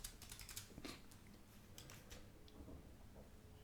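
Computer keyboard keys tapped in a quick irregular burst while searching for the Spectra plugin, soft close clicks running steadily through the whole stretch with no voice.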